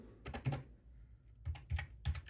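Computer keyboard typing comes in short bursts of close, soft key clicks, one cluster early and several quick taps near the end, with quiet pauses between and no talk.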